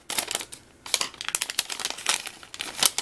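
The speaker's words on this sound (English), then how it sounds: "Let's go ahead and cut that open." Paper and plastic packaging on a Tom Ford Black Orchid fragrance is cut and torn open with busy, close crinkling, crackling and ripping that runs almost the whole time, with one brief pause.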